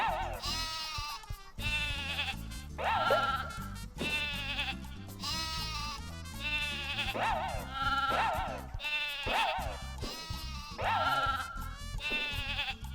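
Sheep in the PS1 game Croc: Legend of the Gobbos bleat repeatedly, about six or seven wobbling cries in a steady rhythm over looping game music, with nobody speaking.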